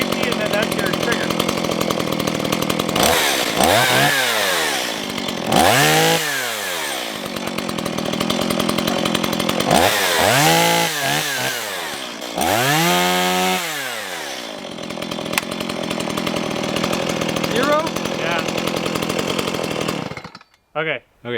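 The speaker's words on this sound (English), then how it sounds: "that's how not to use a chainsaw" A chainsaw at an off-grid cabin revs in several bursts, rising and dropping in pitch between idling stretches, loud and close, with people talking now and then before it cuts out at the end.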